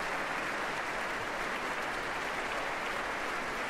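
Concert audience applauding a chamber orchestra after a live performance of Arensky's Chamber Symphony: dense, steady clapping from a large hall crowd that stays loud and even throughout.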